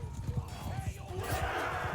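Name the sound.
horse galloping in the video game Mount & Blade II: Bannerlord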